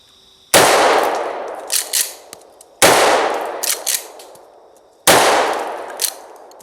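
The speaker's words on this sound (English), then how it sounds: "Let's try 3 rounds of Federal number 8." Three loud, sharp blasts from a short-barrel shotgun firing Federal number 8 shells, evenly spaced about two seconds apart, each followed by a brief ringing decay and clanking of the action.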